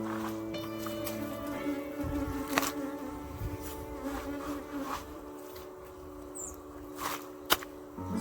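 Bees hum in a continuous faint drone around a foul-smelling patch of dirt with dead bees in it, with occasional soft clicks and bumps nearby.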